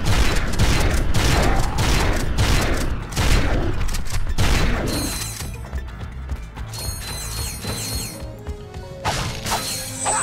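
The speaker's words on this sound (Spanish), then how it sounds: "Voy a utilizar la escopeta, que la mejore." Repeated heavy weapon blasts in Ratchet & Clank 2 form a loud, dense rhythmic barrage for about five seconds, then give way to quieter mechanical clanks, ratcheting and scattered game effects.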